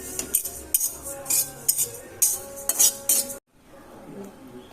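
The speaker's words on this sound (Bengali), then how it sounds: "ওপর দিয়ে গার্নিশিংয়ে একটু সাদা তিলটাকে একটু হালকা করে একটু নেড়ে দিচ্ছি" White sesame seeds stirred in a pan, with repeated close metallic scrapes and clinks of a utensil against the pan in uneven bursts, then a brief stop and quieter frying.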